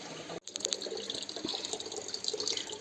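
Water from a healing spring in a Ukrainian village pours and splashes into a cup, a steady close gush with a brief break near the start and no talk over it.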